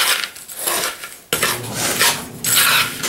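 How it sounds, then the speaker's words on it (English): Chips being mixed into protein bar mixture in a bowl, with close, loud scraping and clinking of a utensil against the bowl in several stirring passes separated by a brief pause. "So I'll mix my chips in."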